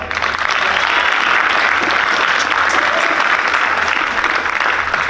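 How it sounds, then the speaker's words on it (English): An audience at a school parent appreciation night claps, sustained loud applause filling the room steadily throughout. "Give yourself a round of applause."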